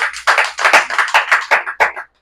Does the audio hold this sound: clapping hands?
yes